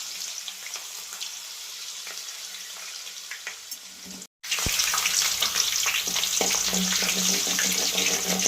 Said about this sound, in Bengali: এরপর আলুগুলো লাল হওয়া পর্যন্ত লো ফ্লেমে ভেজে নেব।